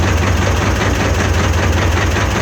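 The cold D-21 diesel engine of a T-16 tractor idles steadily with a deep, even rumble and rhythmic knocking, loud and close throughout.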